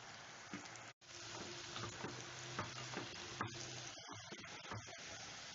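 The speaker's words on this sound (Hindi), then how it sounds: "आलू को हम बैचेस में फ्राई करेंगे" Potato pieces deep-fry in hot oil over a medium flame, a faint, steady bubbling sizzle with a brief dropout near the start and a few clinks toward the end.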